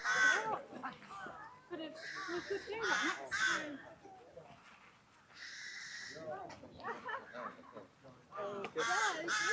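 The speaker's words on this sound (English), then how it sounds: "there appeared to be many birds nested in the trees near the harbour" Crows caw repeatedly, loud and harsh, mixed with other bird chatter from birds nesting in trees near the harbour in Kirkcudbright, Scotland.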